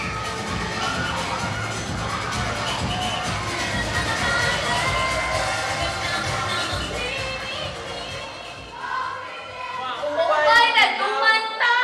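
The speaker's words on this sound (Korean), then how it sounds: "오늘의 주인공들이 무대에 오르자 함성과 박수가 터져 나옵니다." A crowd at an outdoor event on Camiguin island cheers, shouts and applauds as performers take the stage, a dense, loud wash of voices with children's shouts, swelling near the end.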